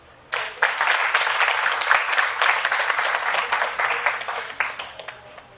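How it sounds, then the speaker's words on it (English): Applause from a large audience starts abruptly and holds steady, a dense wash of clapping with a few sharper claps near the end. "Please welcome him on this stage with a round of applause."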